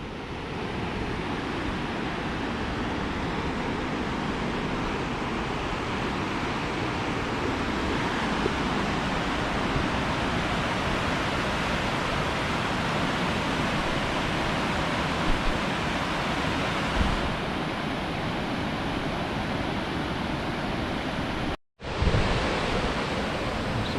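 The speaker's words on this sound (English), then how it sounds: "waterfall" Waterfall in a boulder-strewn canyon near a reservoir in Utah's Bells Canyon, a constant loud broadband rush of falling water close to the microphone, unbroken apart from a brief cutout near the end.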